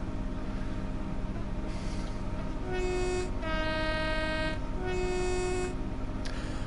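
A diesel switcher locomotive, an MP15, in the Train Sim World 2 game idles with a steady low engine rumble, while its horn sounds two sustained tonal blasts, each about a second long, clear and fairly loud over the drone.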